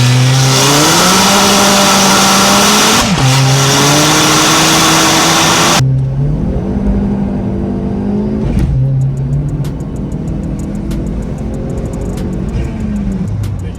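A Dodge Caliber SRT-4 pulls hard up a ramp under boost, its loud engine climbing in pitch through one gear, dipping briefly at a shift, then rising again as it accelerates.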